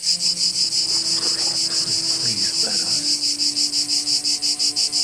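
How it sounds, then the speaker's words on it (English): Dense, steady pulsing chirps of insects fill the air continuously, loud and close, with a faint voice murmuring underneath. "Just a white noise of chirping."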